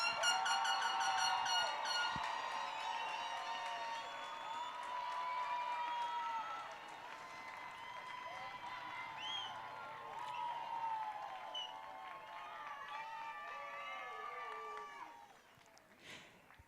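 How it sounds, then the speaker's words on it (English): A stadium crowd at a Douglas County High School graduation in 2022 cheers and whoops from a distance, a broad, sustained roar with scattered high shouts that fades near the end. "Let's give them all a round of applause"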